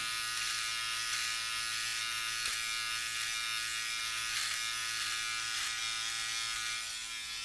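A Philips Norelco OneBlade electric trimmer buzzes steadily and close for several seconds while trimming sideburns, a high, even whine with slight changes as it moves, and no voices.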